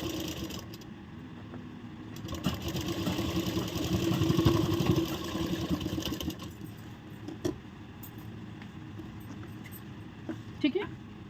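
A sewing machine stitching a blouse seam, a continuous rapid mechanical whirr that swells in the middle and stops after about six seconds, followed by a few isolated clicks and handling sounds.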